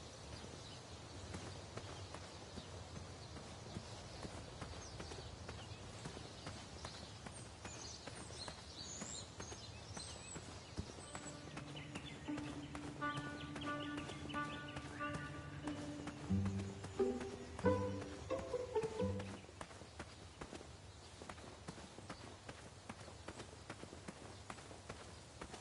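Horse hooves in the King's Quest video game, heard as a quiet game soundscape where a run of clip-clopping hoofbeats rises in the middle alongside a short melodic musical jingle, then fades.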